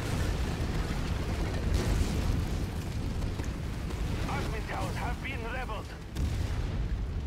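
A building explodes in the MechWarrior 5 Mercenaries video game, heard as a continuous, dense roar of blasts and rumbling debris throughout, with players talking over the noise.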